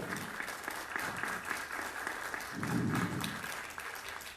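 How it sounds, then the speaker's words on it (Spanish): Short round of audience applause at a Peruvian constitutional debate forum, steady clapping at moderate volume that swells briefly before fading, with no voices over it. "Un voto de aplausos, por favor."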